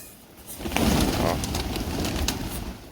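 Pigeons coo steadily in a close flock while being fed millet and sesame seeds, a soft continuous rumbling murmur with faint chirps rising over it.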